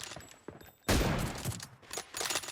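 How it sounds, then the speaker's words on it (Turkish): Gunfire in PUBG Mobile: a sudden loud burst of shots erupts about a third of the way in and rattles on in rough volleys, preceded by quieter game noise with faint voices. "7 tane mermi vardı. Hepsini de sıktım."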